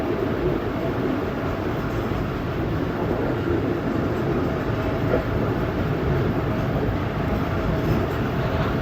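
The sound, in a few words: Tezgam 8 Down passenger train running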